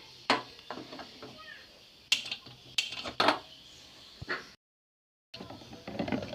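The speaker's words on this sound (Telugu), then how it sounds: "స్టవ్ మీద కడాయి పెట్టుకోవాలండి కడాయి పెట్టుకొని గ్యాస్ వెలిగించుకోవాలి" A kadai is set down on a gas stove in a home kitchen while cooking ivy gourd fry: a few sharp, close metallic clanks and knocks spaced apart, with a short silent gap.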